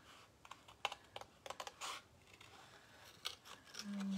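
Scissors snip through paper, cutting out a turtle shape for a handmade card, a quiet close run of sharp irregular clicks and snips with no talking.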